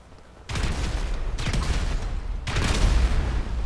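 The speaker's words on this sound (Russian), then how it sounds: "поэтому три взрыва сюда. Три взрыва этому господину." Three heavy explosion blasts in the game GTA 5 go off in turn against an armored car, each a sudden broadband burst with a rumbling low-end tail, loud and close, with no voices.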